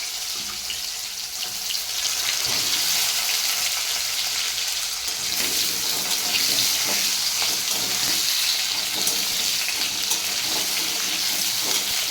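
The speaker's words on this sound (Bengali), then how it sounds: "এবারে মাছের ঝোলে আলুটা ভেজে নেবো" Steady, loud frying hiss of potatoes in hot oil, continuous and close, with faint stirring scrapes.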